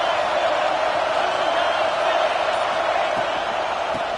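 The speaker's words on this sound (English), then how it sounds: "This crowd bringing the energy and noise early." A large stadium crowd cheers at an LSU versus Nebraska college football game, a dense steady roar that stays loud throughout with no gaps, as if heard from within the stands.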